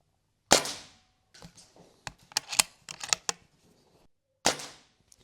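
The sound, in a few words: Artemis CR600W air rifle shots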